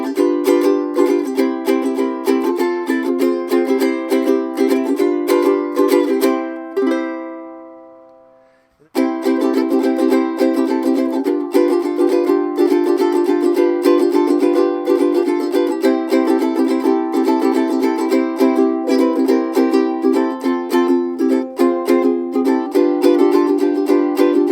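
A TUSL-35 ukulele plays a melody, strummed and plucked close up and clear. The playing briefly fades to near silence around the middle, then resumes and continues steadily with no voices.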